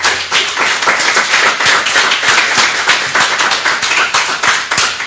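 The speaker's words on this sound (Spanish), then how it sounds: "Alguien dele un aplauso al Señor entonces en esta mañana" A church congregation claps during a Sunday morning service, loud rhythmic hand claps in a fast, steady beat with sharp individual slaps audible through the crowd.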